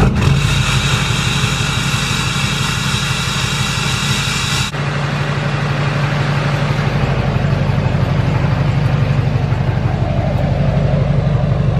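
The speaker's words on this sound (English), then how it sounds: "we're gonna go ahead and start it up for the first time with the exhaust" Duramax diesel engine fired up for the first time with a new exhaust, then idling with a deep, steady rumble; loud and close, with a brief dip in tone at the start before settling into a continuous idle.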